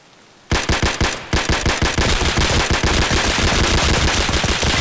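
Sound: gunfire in the video game Escape from Tarkov

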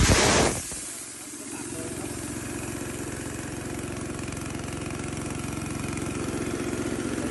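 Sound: Honda GX160 two-cylinder air compressor engine running

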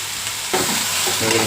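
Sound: stirring drumstick leaf egg fry in pan

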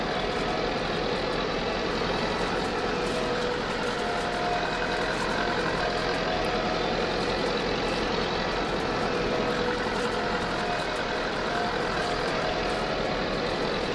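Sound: small 79 horsepower turbo tractor engine running while haying

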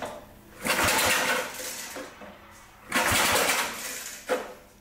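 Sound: 1961 David Bradley tractor engine cranking, failing to start

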